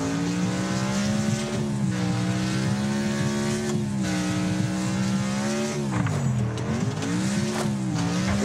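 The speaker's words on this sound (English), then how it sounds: "Listen to those brakes" A car's brakes squeal loudly as a sustained, wavering high-pitched whine over engine noise, with the pitch bending down and back up several times for the whole stretch and no voices.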